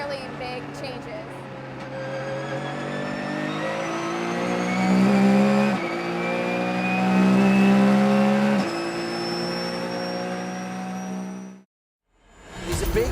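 Porsche GT3 Cup race cars roar past at Sebring, loud engines holding high revs with rising and falling pitch as they pass near, the sound dropping off briefly before picking up again.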